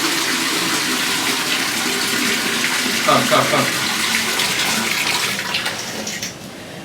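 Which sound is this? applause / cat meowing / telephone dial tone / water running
water running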